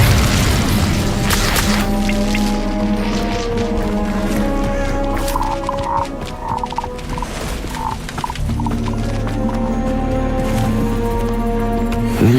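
Expelliarmus and Incendio spells cast in the video game Hogwarts Legacy, a dense, loud stretch of booming magical blasts, roars and whooshes layered over game music, with no clear speech.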